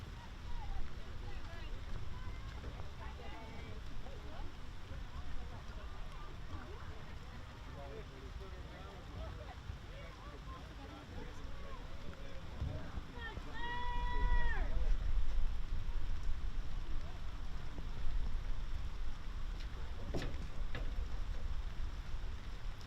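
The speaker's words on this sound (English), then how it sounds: "you can hear the downpour of rain that is outside at the moment" A heavy downpour outdoors at a girls' lacrosse game makes a steady, broad hiss throughout, with a commentator talking over it and the noise swelling midway.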